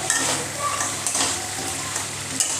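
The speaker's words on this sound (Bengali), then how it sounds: "একটু ভালো করে নাড়িয়ে নিয়ে তারপরে কিন্তু জল দিয়ে দেবো" Ground spices sizzle and fry in a pan for a crab curry as a spoon stirs them, a steady close crackle with faint scraping, under quiet talk.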